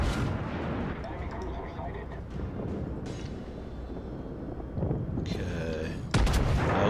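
Naval guns on warships firing in the World of Warships video game, steady distant booming rumble with a sharp loud blast near the end.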